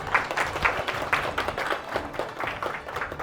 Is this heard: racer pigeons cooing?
no